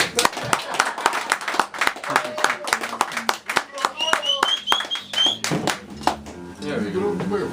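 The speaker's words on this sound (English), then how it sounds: "So that means you keep clapping." An audience at a poetry reading claps in sharp, uneven bursts, the claps carrying on under a voice that speaks over them throughout.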